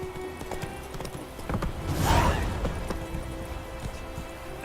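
Hoofbeats from Roach the horse galloping in The Witcher 3 sound steadily at moderate loudness, with a whinny-like swell near the middle over game background sound.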